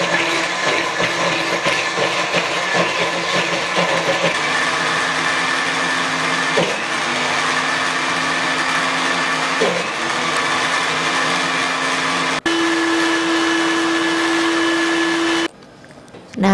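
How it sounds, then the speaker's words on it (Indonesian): A kitchen blender grinds spice paste for a basic seasoning, a loud steady whirring drone that shifts pitch as the load changes, briefly cutting out near the end. "Jika blender terasa berat, boleh ditambahkan minyak."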